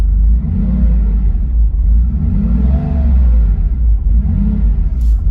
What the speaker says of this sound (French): Je vais accélérer un peu pour vos oreilles.